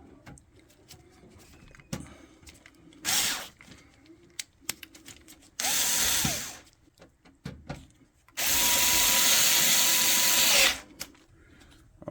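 Power drill driving screws during a gaming PC build, three separate bursts of whirring of increasing length, separated by quiet handling clicks and small knocks.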